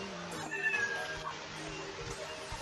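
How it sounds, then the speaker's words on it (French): A single cartoonish cat meow from the Scratch programming tool's default sound library, a short tonal cry heard near and clear over faint background noise. "Il a un son, il a miaou."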